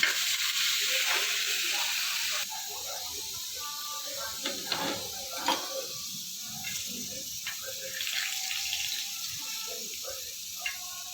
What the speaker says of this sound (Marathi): पापड वगैरे तळत होते